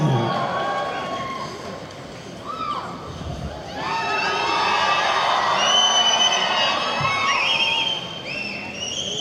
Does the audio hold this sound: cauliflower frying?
no